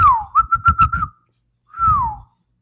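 Someone whistles a wavering tone that warbles through several quick pulses, pauses, then gives one shorter falling whistle; the effort is rough, clear and close, with nothing else around it.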